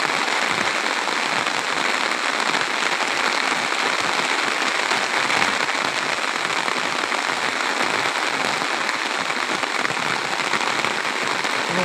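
Rain falls without a break on the Baranai river at Teghoria ghat, Naldanga, Natore, a continuous close hiss of countless drops striking water, steady in loudness throughout.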